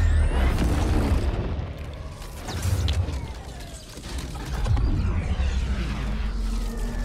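Detonations boom in the Star Wars Battlefront 2 campaign, deep rumbling blasts that swell twice over a dense, noisy battle backdrop with debris and mechanical clatter.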